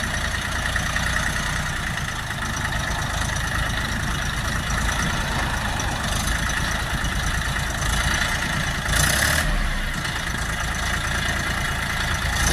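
A Bulat tractor's diesel engine, model 385, idling loud up close, an even throbbing rumble that holds constant throughout with a brief rise near the end.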